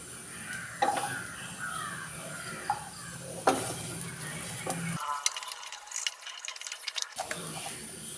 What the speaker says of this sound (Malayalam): ഇത്രയും ചേർത്ത് നന്നായിട്ട് ഒന്ന് ഇളക്കി കൊടുക്കാം